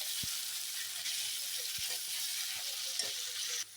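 Steady hiss and crackle of potatoes frying in hot oil, close up, with a few soft clinks of stirring and no talking.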